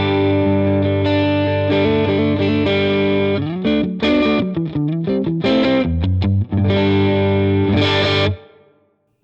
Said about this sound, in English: Just a nice chimey clean tone.